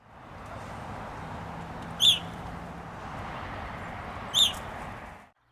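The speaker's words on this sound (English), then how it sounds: "You can listen for their monosyllabic chirp that sounds quite a lot like the chirp of the common house sparrow amplified." Two loud, sharp single chirps from an evening grosbeak, like an amplified house sparrow chirp, spaced a couple of seconds apart over steady background hiss.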